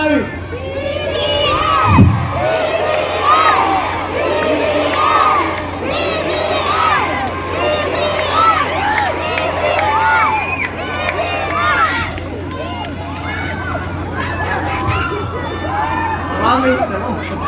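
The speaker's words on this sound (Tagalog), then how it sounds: "ang naririnig po nating tinig ng Pinoy, ng sigaw ng ating mga kababayan" A large crowd of supporters at a political grand rally in Alaminos City, Pangasinan, cheering and shouting continuously, with many overlapping voices, whoops and chants forming a loud, dense, sustained roar close to the microphone.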